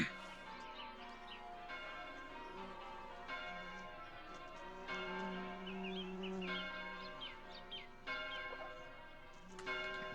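A tolling bell from a song rings in slow, regular strokes, each one ringing on under a faint, steady musical backdrop, with small chirping sounds scattered throughout.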